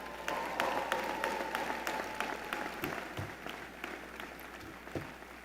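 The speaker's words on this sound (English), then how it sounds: "So give them another big round of applause." Commencement audience at a George Washington University business school graduation applauds steadily, a broad continuous wash of clapping from a large crowd with a few sharper individual claps standing out, lasting throughout.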